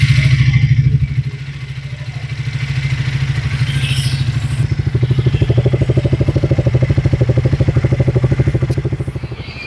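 A 2024 Triumph Speed 400 motorcycle engine running close by, a steady throbbing idle that rises into a firmer rev partway through, with a rhythmic mechanical pulse throughout.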